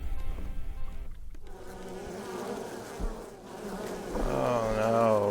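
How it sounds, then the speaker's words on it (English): A swarm of bees drones steadily in the fantasy dungeon game UnExplored, a dense, close buzzing that rises and falls and grows louder near the end. "Oh no, bees. Not the bees. Not the bees."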